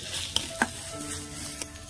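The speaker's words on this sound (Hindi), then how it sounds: "पूरा एक साथ मसाला तो भुनेंगे" Masala with snail and hogplum fries in a pan with a continuous close sizzle, broken by a couple of sharp metallic clicks from stirring.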